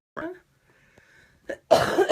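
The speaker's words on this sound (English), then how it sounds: "I just coughed right into the microphone" Two short coughs close to the microphone with a quiet pause between, followed by a loud, harsh burst of noise right on the mic.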